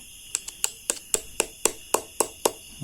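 A series of about ten sharp metallic taps in a steady rhythm as a hammer drives a clutch part into place on a motorcycle, each ringing briefly, close by with no talking.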